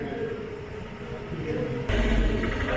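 The Garib Rath Express at Kasaragod railway station sends out a continuous low rumble of rail noise that steps up louder partway through, amid busy platform ambience.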